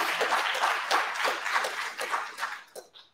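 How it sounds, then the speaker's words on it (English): An audience applauds an award recipient at a program ceremony, a moderate patter of many hands that swells, then thins into scattered claps and fades out near the end. "Let's have a round of applause for Juliana"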